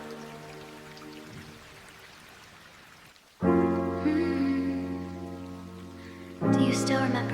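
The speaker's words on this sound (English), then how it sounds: "Soft rain slowly fading, lonely piano echoing low," Soft, steady rain patters faintly under quiet piano for a few seconds, then louder music and singing take over.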